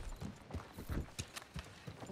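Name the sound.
horse hooves clip-clopping in a video game, Red Dead Redemption 2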